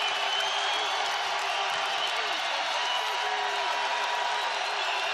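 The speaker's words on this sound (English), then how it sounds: "Crowd really getting into it now. Boy, they can really get loud in this arena." A large indoor crowd at a Nevada vs Boise State college basketball game roars and cheers continuously, a loud, steady wash of voices filling the arena.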